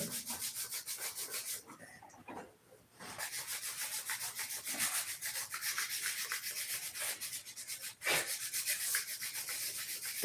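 Scrubber pad rubbed back and forth over a painted surface, a steady close abrasive scrubbing that runs almost continuously, with brief pauses around two and eight seconds.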